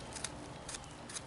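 Quiet, close scraping cuts of a V-tool carving a wooden figure spoon, three short soft strokes in a faint room.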